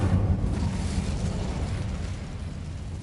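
An Incendio fire spell in Hogwarts Legacy roars as a steady rumbling burst of flame, loud and close at first and slowly easing off over about three seconds, with no voices.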